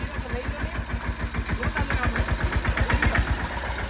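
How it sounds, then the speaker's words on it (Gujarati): A mini tractor engine idles with a quick, regular chugging pulse, steady and close, running on its own without voices. "mini tractor"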